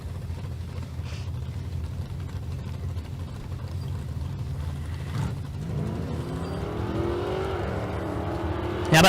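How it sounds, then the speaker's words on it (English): A white Camaro and a 2021 Dodge Challenger drag racing at the Street Car Super Nationals in Las Vegas, heard as a distant engine rumble that swells into a rising, revving roar near the end. "White Camaro on the left-hand side of the racetrack. Running alongside Bryce Seabolt"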